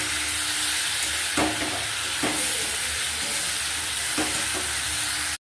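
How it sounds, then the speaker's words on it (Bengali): Ginger, cumin powder and chili powder frying in a hot pan, a continuous sizzle and hiss with a few sharp scraping stirs of a spatula, close and steady with no talking. "এই যে জিরে গুঁড়ো লঙ্কা গুঁড়ো দিয়ে দিয়েছি, এবার সবগুলো একসাথে কষাতে হবে।"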